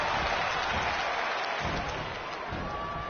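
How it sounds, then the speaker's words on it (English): Arena crowd noise in the WWE 2K20 video game, a steady, dense roar of cheering and applause holding at an even level throughout, with no clear individual voices standing out. "Listen to this crowd count the next one in."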